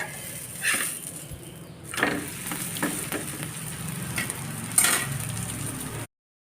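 Onion paratha fries in oil on a hot pan, with a steady close sizzle broken by a few louder bursts as the flatbread is pressed and moved.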